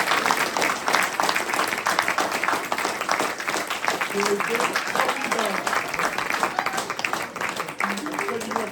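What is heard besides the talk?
big applause for the young people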